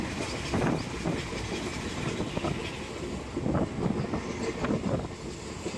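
Steady rumble and rattle of a moving passenger train, heard from on board while standing, with rhythmic clatter pulses and wind noise over a continuous low roar.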